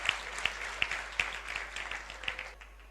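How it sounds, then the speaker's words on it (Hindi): Assembly at a Jain sermon applauding together, a moderate spread of clapping with a few sharp, distinct claps standing out, steady for a few seconds then trailing off into quiet. "सभी के सम्मान में संयुक्त रूप से जोरदार तालियां"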